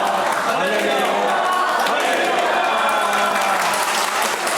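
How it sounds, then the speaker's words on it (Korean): A church congregation at an opening worship service claps steadily and densely after a sung hallelujah, loud and continuous throughout, with voices mixed into the applause. "박수 오래 치셔도 됩니다"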